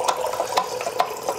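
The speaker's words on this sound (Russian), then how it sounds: "Смотрите, вода сама набирается," A refrigerator water dispenser with a fault runs on without stopping, giving a steady, fairly loud splashing flow of water broken by small regular surges. No one speaks.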